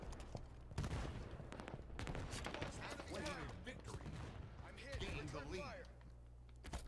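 Brute plasma rifle firing in Halo 5, a dense stream of rapid energy shots held for a second or two at a time, loud and close among chaotic multiplayer combat noise with a voice talking over it.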